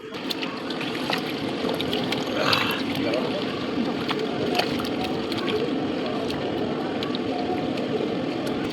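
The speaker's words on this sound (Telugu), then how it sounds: "కొంచెం వేడి నీళ్ళు వేసుకుందాం." Hot water poured steadily into a cooking pot of marinating yogurt mixture, a continuous close trickling and splashing over a low background hum.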